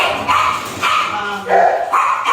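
Several small dogs bark and yip in quick, overlapping bursts nearby at an animal shelter, with a voice faintly in the background.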